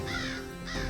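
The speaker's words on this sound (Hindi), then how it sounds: "काक तो आ गए" Crows caw twice in quick succession, harsh, nasal and loud, close by and with no talking, as they gather at a ritual offering.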